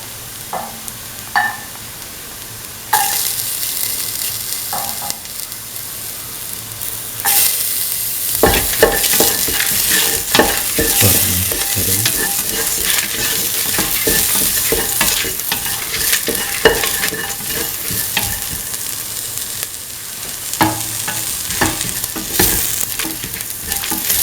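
Garlic frying in a hot pan with a split chickpea and semolina mixture, a sudden loud sizzle that carries on under repeated scraping and stirring of the pan, close up and without speech.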